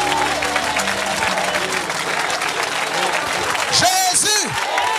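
A church congregation applauds loudly and steadily throughout, with crowd noise and shouting voices over the clapping at a deliverance service.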